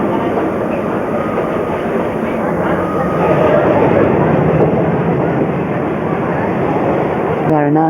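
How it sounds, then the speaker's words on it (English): A passenger train from Delhi to Varanasi in India rumbles along the rails with a steady, loud roar and rhythmic clatter, close and continuous throughout. "This train is bound from Delhi to Varanasi,"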